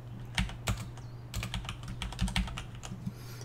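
Login details are typed on a computer keyboard as quick, uneven bursts of close key clicks, about a dozen taps over a few seconds with short pauses, over a faint steady background hum.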